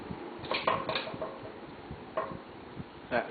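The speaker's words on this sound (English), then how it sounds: "That sound you're hearing is the light kit." Light kit on a Hunter Comfort Breeze 52-inch ceiling fan rattles and clinks in irregular light metallic ticks, a cluster early on then sparser taps, faint and close with no voices.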